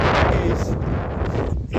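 Strong wind outdoors up high buffets the microphone with a loud, continuous roaring rumble across the whole moment.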